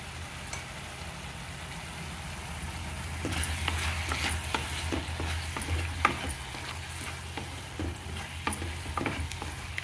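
Ginger garlic paste frying in a pan for mushroom curry, a faint low sizzle with scattered stirring clicks growing busier midway, heard close with a quiet hum beneath.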